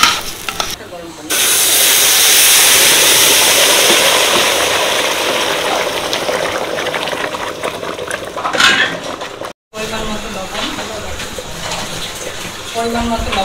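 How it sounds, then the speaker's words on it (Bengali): Hot water poured into a pot of fried rice for pulao, a loud rushing hiss and steaming sizzle that gradually settles into bubbling, with a voice talking at the end. "চালটা ভাজা হয়ে গেছে, আমি এবার গরম পানি দিয়ে দেবো।"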